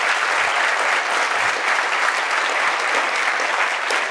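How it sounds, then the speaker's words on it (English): Sustained applause from an audience, steady clapping throughout with no pauses and no talking over it. "give a round of applause to our invited people."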